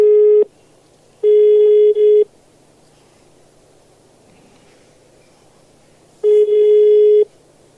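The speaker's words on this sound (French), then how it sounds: "Nous appelons Graziano en Suisse" Telephone ringback tone on a radio call-in, three long steady electronic beeps separated by quiet gaps, with faint line hiss between them.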